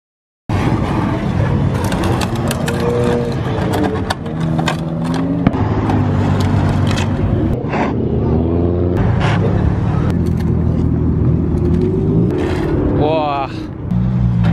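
A Mazda Miata engine revs repeatedly at a street car event, rising and falling loudly over a noisy crowd with shouting and talk throughout.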